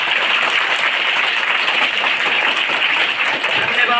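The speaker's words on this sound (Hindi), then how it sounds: "एक बार जोरदार ताली के साथ" Teachers and pupils at a school farewell ceremony for a headmaster give loud, dense, continuous applause that stays steady throughout, with no talk over it.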